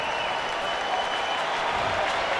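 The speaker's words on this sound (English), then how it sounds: "Bill Murray conjuring up little enthusiasm, as is this sold-out crowd" A sold-out ballpark crowd at a Nationals vs. Cubs baseball game gives a steady, broad wash of applause and cheering, distant and even, with no single voices standing out.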